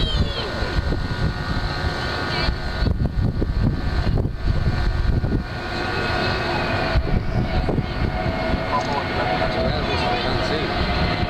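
An aircraft at the Dublin FlightFest air show, flown by a two-pilot crew, passes by as a steady broadband engine roar that stays loud throughout with slight swells, mixed with crowd and PA background.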